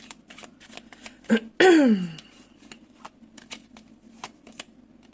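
Tarot cards are shuffled by hand in a quick riffling burst, with a short brisk shuffle and a flick of the deck standing out clearly against quiet card handling.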